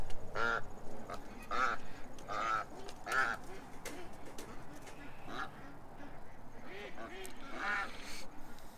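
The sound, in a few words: ducks quacking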